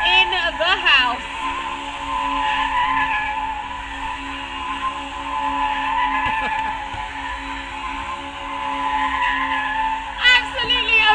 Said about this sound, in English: spinning the Legend car, getting back in jigsaw puzzle style, and of course completing that donut